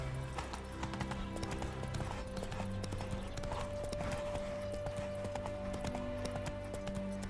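Roach the horse gallops in The Witcher 3 video game, its rapid hoofbeats clopping steadily and close under a sustained tonal game sound.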